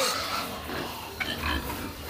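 A pig grunts in a farm pen while pigs are being moved, giving a few short rough snorts close by over steady barnyard background noise.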